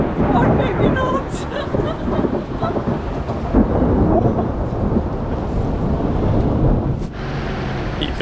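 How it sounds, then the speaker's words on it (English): Thunder rumbles and rain pours in a heavy, continuous mountain thunderstorm in Iranian Kurdistan, with wind buffeting the microphone and occasional voices underneath. "Eventually the thunderstorm passes"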